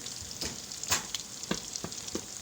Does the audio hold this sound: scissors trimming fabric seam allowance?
no